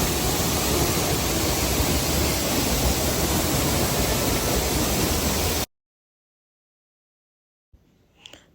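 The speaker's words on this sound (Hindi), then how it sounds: "अभी मैं आपको इस वाटरफॉल का साउंड सुनाती हूँ।" A fast-flowing waterfall near Gangtok roars loud and steady as a dense, even rush of water, then cuts off abruptly to silence, with only faint noise returning at the very end.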